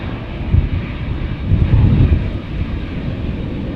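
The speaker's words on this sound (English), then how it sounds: "Meanwhile, Dreamliner time." A Boeing 787 Dreamliner departs Schiphol, its engines a loud, close, low rumble that swells and throbs briefly before holding steady.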